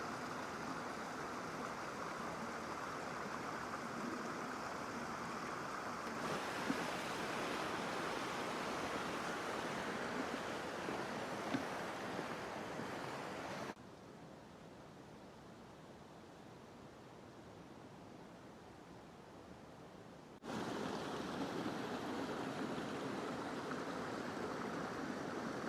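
A waterfall roars steadily in a freezing Appalachian wilderness beside an old narrow gauge railroad, a dense, even wash of noise that drops quieter partway through and then returns at full strength.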